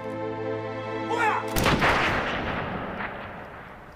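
A firing squad's rifle volley bursts out sharply after a steady droning tone, one loud crack that rolls and echoes away over several seconds.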